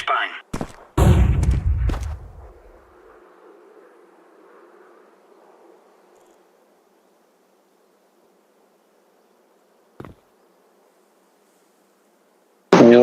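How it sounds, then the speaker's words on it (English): A flashbang grenade going off in Counter-Strike 2: sharp bursts up front with a loud bang, followed by a long fading ringing hiss that dies away into near silence, with a brief click later on. "Throwing flashbang."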